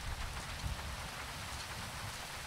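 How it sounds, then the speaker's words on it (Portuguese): Rain falling in the video game GTA V, a steady loud hiss of drops on surfaces that persists evenly throughout with no voices. "chuva com sol hoje"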